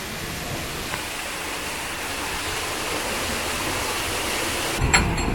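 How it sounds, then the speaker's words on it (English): Water rushing from one chamber of a canal lock into the next during a narrowboat descent, a steady broad roaring flow heard continuously with a faint clatter near the end. "let water out of the second chamber into the third chamber"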